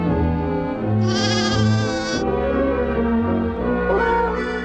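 Lambs bleat in a cartoon over background music, a few wavering, nasal cries of medium loudness spread across a few seconds.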